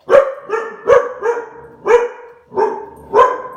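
A pet dog barks loudly and close by in a steady series of about six sharp barks, evenly spaced roughly half a second to a second apart, with no talking.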